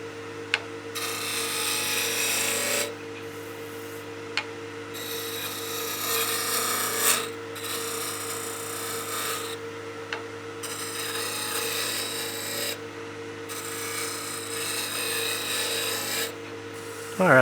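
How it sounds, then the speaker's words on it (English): A wood lathe turns a laminated pepper mill blank for a crank-top mill, with a steady motor hum beneath broad raspy scraping from a tool cutting the spinning wood in several bursts separated by brief pauses. "Let's stop the lathe and take a look."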